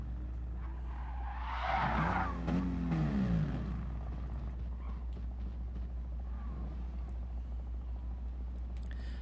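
Racing cars in Gran Turismo Sport skid with a tire-squealing wail, rising and falling over a couple of seconds above a steady low engine drone, then settling back to the hum.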